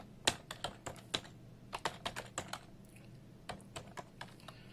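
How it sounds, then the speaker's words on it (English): Typing on a computer keyboard, with quick irregular bursts of sharp key clicks close by and short pauses between runs. The room is otherwise quiet. "I didn't even type Heine correctly."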